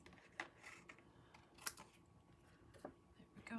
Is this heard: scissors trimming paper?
yes